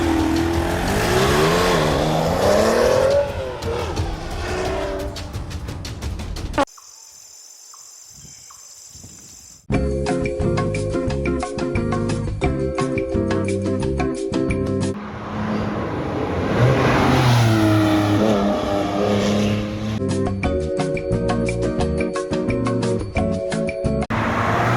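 A Porsche 911 997 Turbo with a manual gearbox accelerates away hard, loud rising engine roar through several gear changes with a short quieter gap between pulls, and insect chirping faintly underneath.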